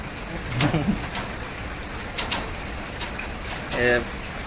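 Steady rain falls in a constant hiss, with brief voices speaking now and then over the downpour.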